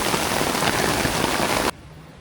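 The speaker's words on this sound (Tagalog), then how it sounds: "Pero inabot kami ng ulan na napakalakas." Very heavy rain pouring down in Baguio near Lourdes Grotto, a dense, loud, unbroken hiss of drops on surfaces that cuts off abruptly near the end, leaving a much quieter background.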